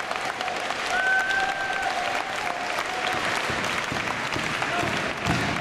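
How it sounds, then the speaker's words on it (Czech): A wrestling crowd in an arena in Oberhausen applauds steadily after a Shotgun Championship match, with continuous dense clapping and a faint hum running underneath. "Krásný potlesk, krásná odezva."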